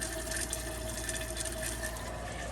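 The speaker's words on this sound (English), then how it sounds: "When you press down halfway, it fills the bowl with water." Water runs steadily into the bowl of a toilet in a 2021 Coachmen Crosstrail 22XG RV as its foot pedal is pressed halfway, a faint, even hiss and trickle with a low hum beneath.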